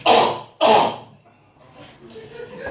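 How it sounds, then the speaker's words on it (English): Two sharp, loud coughs in quick succession, close up, followed by quieter shuffling background noise. "still got this cough"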